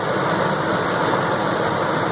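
A 2004 Ford F150 5.4-litre V8 pickup engine idles steadily with a deep, even rumble, close and continuous, no voices.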